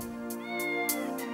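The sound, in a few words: cat meowing in a movie clip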